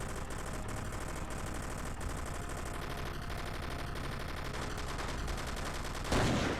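Enemy machine gunner in Commandos: Strike Force firing long, unbroken bursts of dense automatic fire that run through the whole stretch, loud and steady with a sharper blast near the end, no voices.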